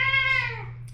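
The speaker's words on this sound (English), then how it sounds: "I think that cat wants to go in." A cat meows once, a single clear, close, drawn-out call that falls in pitch and fades, with a low steady hum beneath.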